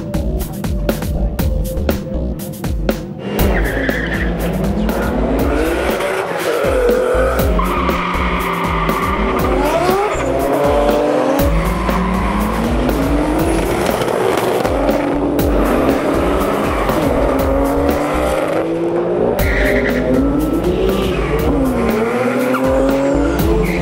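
A 600 bhp four-wheel-drive Toyota Corolla drag racing at Rotorstock 2004 blasts through its gears, with loud rising engine pulls, shift breaks and tire noise over a constant roar.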